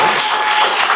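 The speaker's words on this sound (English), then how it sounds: "Round of applause, please." Audience applause after a talk, a brief, dense wash of many hands clapping at once, loud and close, lasting about a second.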